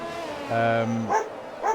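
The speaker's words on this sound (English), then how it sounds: "Sorry about my dog, he's a real dick." A dog barks and whimpers indoors, a short yelping sound followed by a couple of higher yips, moderately loud under a faint background hum, during a live F1 sim racing commentary.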